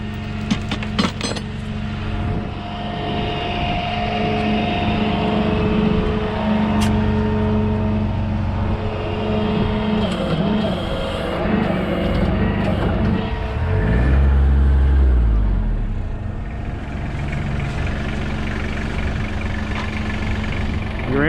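A Kubota lawn tractor engine idles and labours while the stuck machine is being recovered, a steady close drone with a brief low surge midway and some knocks and clatter.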